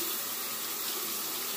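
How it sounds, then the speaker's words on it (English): Water runs steadily from a tap as a Rockwell C2 safety razor is rinsed under it, a continuous close hiss with no talking. "this razor rinses so quickly and so easily"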